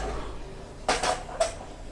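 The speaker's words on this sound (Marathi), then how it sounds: "आता आपण इकडे घेते मी ही कढई छुंद्याची" A metal kadhai being handled at the stove while making raw-mango chunda, giving three brief, close clanks and scrapes in quick succession over a quiet kitchen background, with no talking.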